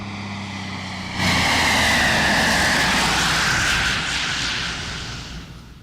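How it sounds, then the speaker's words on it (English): A propeller tow plane pulling a cable roars overhead, a loud, steady engine drone that starts abruptly and then eases slightly toward the end, with no speech. "That is, and that's a tow plane, by the way."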